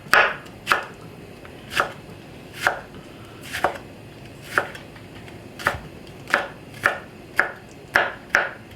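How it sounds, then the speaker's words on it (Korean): A knife finely chopping green onion on a cutting board, about a dozen crisp single knocks at a slightly uneven, unhurried pace, close and clear with no talking. "대파를 좀 약간 곱게 썰어서"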